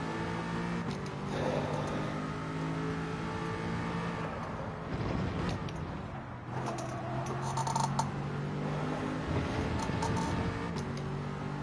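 Race car engine in Gran Turismo 7, GT4 class online lobby racing: a steady engine drone with revs rising and falling and a dip around a downshift, then climbing again, with no talk.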